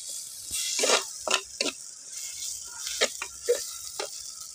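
Manathakkali (black nightshade) berries sizzle in a hot pan while a spatula scrapes and stirs in short, irregular strokes, close up with no talking.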